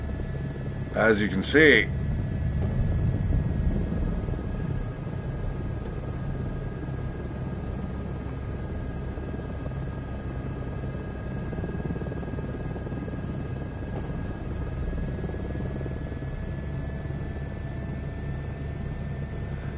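Helicopter engine and rotor drone in Microsoft Flight Simulator 2024 on PS5, a steady low hum with a faint high whine running throughout, with a voice speaking briefly near the start.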